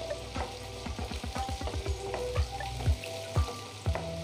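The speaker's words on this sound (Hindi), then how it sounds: "अब हम इसमें प्याज डाल देंगे। प्याज को गोल्डन होने तक भूनेंगे।" Sliced onions fry in hot oil for a rajma dish, a steady close sizzle broken by a series of regular stirring scrapes and knocks, with no voices present.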